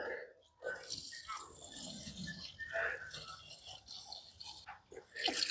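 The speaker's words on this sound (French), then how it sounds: "Je remplis la bouteille." Water pours from a tap into a bottle in a garden setting, a close, gurgling, splashing stream that varies as the bottle fills, with brief interruptions near the start and end.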